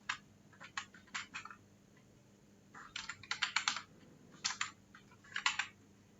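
Short bursts of clicking computer keyboard keys, several quick groups of keystrokes separated by pauses, close and fairly quiet over faint background hum.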